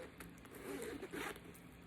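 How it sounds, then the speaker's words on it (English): A gunmetal zipper on a summer bag is drawn open or shut in a quiet, close, continuous rasping pull lasting under two seconds. "it also has the gunmetal zipper here"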